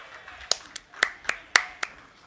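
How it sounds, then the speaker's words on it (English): Scattered handclaps come from a small crowd of spectators at a varsity high school baseball game, Shaker at Lorain, as a hit batter jogs to first: about half a dozen distinct, uneven claps, fairly close and otherwise quiet. "Now we'll get some applause for number 10 jogging his way over to first"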